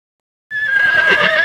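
A single loud, close horse neigh rises suddenly after a brief silence and carries on as a shrill whinny.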